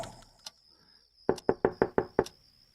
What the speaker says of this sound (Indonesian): Aku coba mengetuk dari dalam untuk membalas ketukannya.